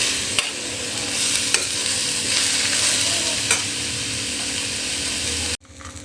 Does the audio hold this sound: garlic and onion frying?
yes